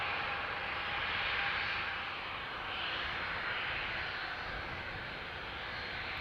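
Aer Lingus airliner arriving from Toulouse and landing at Dublin Airport, a steady jet engine roar at moderate distance that swells slightly and then eases, with no voices.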